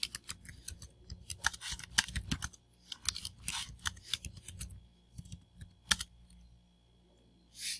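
Clicky typing on a computer keyboard, bursts of keystrokes in quick irregular runs broken by short pauses, close and fairly quiet.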